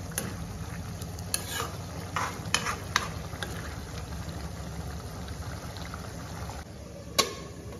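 Fish frying in a pan in a home kitchen: a steady sizzle runs throughout, with occasional sharp clicks and scrapes as it is stirred, one louder knock near the end.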